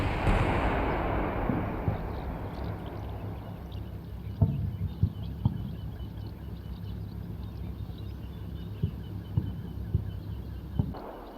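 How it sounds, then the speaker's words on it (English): Distant artillery shelling in the Cold War wargame Combat Mission Cold War, dull thuds and booms scattered every second or two over a low rumbling battlefield background. "The shelling continues,"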